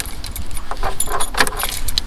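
Keys jangle and rattle up close as a car key is twisted in the ignition, a busy metallic clinking lasting a couple of seconds with no engine starting.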